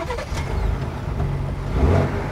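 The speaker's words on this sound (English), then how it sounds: "So let's start it up in Baja mode." A Ford Ranger Raptor V6 in Baja exhaust mode fires up from close by, a short, loud engine note that swells and settles into a deep, throaty idle.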